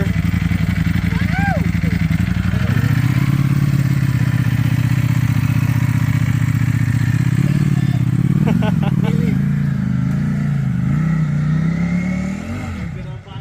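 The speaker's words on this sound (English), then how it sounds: "Stock, even OEM exhaust sounds really good" Kawasaki ZX10-R sport motorcycle on its stock OEM exhaust, idling with a loud, close, steady hum, then briefly revving up and falling back near the end, with people talking over it.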